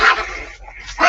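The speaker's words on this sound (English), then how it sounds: "so I got 2 Chihuahuas behind me" Two Chihuahuas bark indoors, loud and close: sharp high yaps at the start, a brief lull, then another burst of barking.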